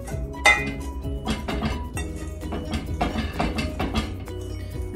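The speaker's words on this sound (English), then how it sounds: "we're going to whisk all the dry ingredients together" A wire whisk clinks steadily against a bowl while dry ingredients for cornbread are mixed, producing a busy, close run of metallic taps and scrapes with no talking.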